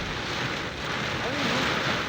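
Heavy rain and wind in Quezon City, Metro Manila, a dense steady hiss of downpour with gusting wind noise swelling midway, loud and continuous.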